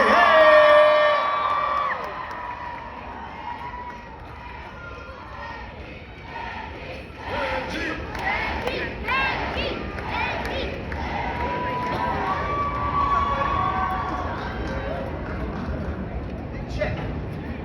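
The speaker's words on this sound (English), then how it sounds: "I want y'all to make some noise for Super Benji" A crowd whoops and cheers loudly at first, then keeps up a lively murmur with scattered shouts while a voice talks over it.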